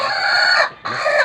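A rooster crows loud and close in two drawn-out bursts separated by a short gap, the call ringing clear with no other sound around it.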